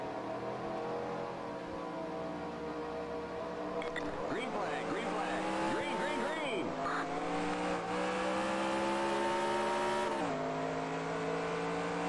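Race cars in NASCAR Racing 2003 with an ARCA mod at Atlanta roar together in a pack, engine drones rising and shifting steadily and loudly throughout, with a voice talking over the racing noise.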